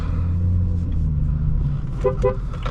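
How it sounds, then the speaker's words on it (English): A 2011 BMW 335i sounds two short horn toots near the end, following a steady low engine idle, close and clear. "We did our horn test"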